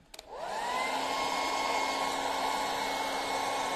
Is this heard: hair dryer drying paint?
yes